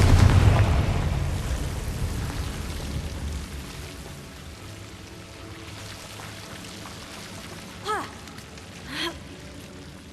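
A Confringo blasting spell explodes in Hogwarts Legacy, a heavy broadband boom up front that decays into a long rumbling tail, followed later by two short whooshing spell-like accents, with no voices over it.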